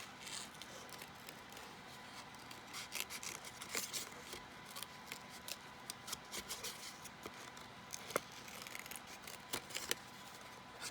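Scissors snip through small scrap pieces of craft paper, a steady run of close, crisp cuts with quiet paper rustling between them and no talking.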